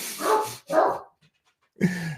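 A dog barks twice in quick succession at close range, loud and alone, then after a short silence gives a third, longer bark or yelp.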